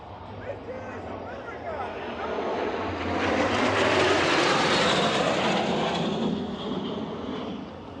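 Jets roar low overhead at an exotic car show, a loud broad rumble that swells to a peak midway and slowly fades away, with people talking underneath.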